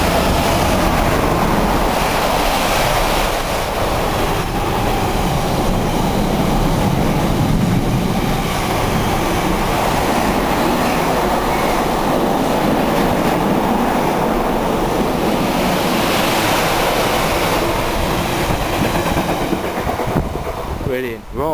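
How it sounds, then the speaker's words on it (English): A container train passes through Needham Market station, a loud, continuous close rumble and roar of wagons rolling by for the whole stretch, with rhythmic clatter that fades near the end; a voice may be faintly present underneath. "here comes a container train about to pass through Needham Market"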